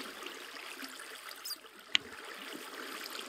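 Gentle flowing water from a bucket placed in Minecraft, a soft steady trickle and stream texture running continuously with one brief sharp click partway through.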